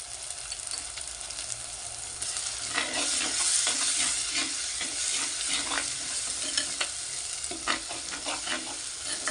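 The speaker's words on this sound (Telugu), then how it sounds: "ఇది అల్లం వెల్లిపాయ పేస్ట్ కొద్దిగా పచ్చి వాసన పోయేంత వరకు వేగనిద్దాము." Ginger garlic paste fries in a clay pot for a spinach and fenugreek boti curry, giving a steady close sizzle that swells after a few seconds and is broken by scraping stirs, with no one talking.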